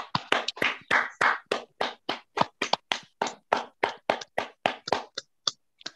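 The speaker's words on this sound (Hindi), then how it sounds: "विशिष्ट महानुभावों के लिए हम एक बार तालियां बजाएंगे सभी।" Clapping for honored guests at an interview event, a few pairs of hands striking in a steady rhythm of distinct close claps that thin out and slow toward the end.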